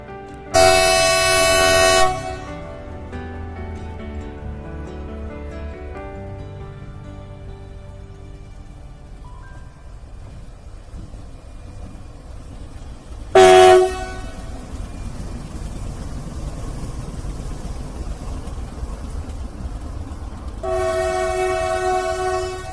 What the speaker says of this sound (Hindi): ये लोकोमोटिव एक फ्रेट ट्रेन को ले जा रहा है